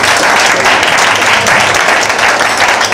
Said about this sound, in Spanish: Este aplauso nuestro va para ello